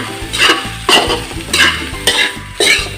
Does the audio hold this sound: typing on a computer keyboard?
no